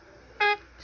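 A single short, bright honk from one of the Sesame Street Honkers, one clean horn-like toot under a second long against a quiet background.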